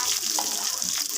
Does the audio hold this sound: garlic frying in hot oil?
yes